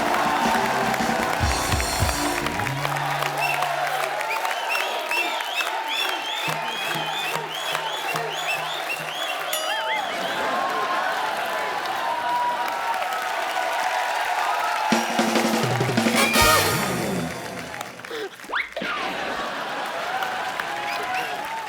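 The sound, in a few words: studio audience applause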